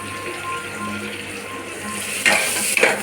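Cumin, mustard seeds, garlic, dried red chillies and curry leaves tempered in hot oil for a raw tamarind pickle dal give off a steady close sizzling hiss, with two sharper crackling bursts near the end.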